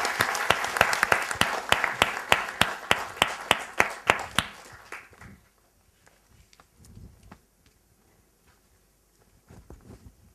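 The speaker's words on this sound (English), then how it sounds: "Give a big round of applause to Ramanand." An audience at a Google Maps editing talk in Bengaluru bursts into loud, dense applause that fades out after about five seconds, leaving a few scattered claps in a quiet room.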